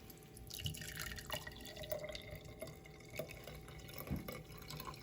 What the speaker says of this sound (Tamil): இப்போ நான் இதுக்கு தண்ணி ஆட் பண்ணி விட்டு இதை நான் ஆட் பண்ணி இதை வடிச்செடுக்க போகிறேன்.